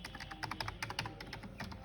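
Rapid typing on an HP KB 1156 PS2 computer keyboard, a dense run of close, crisp key clicks in an uneven rhythm.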